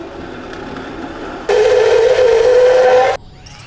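A power tool cuts a section of metal pipe for a Speed Academy Acura Integra build in one loud, whining burst of close grinding that starts and stops abruptly after a quiet lead-in.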